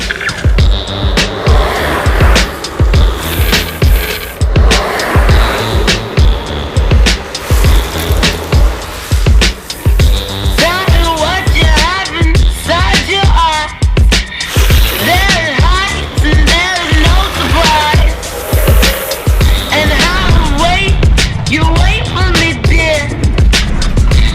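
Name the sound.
longboard wheels sliding on road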